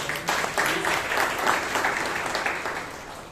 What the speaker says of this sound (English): To Shreya, can you have a round of applause for this?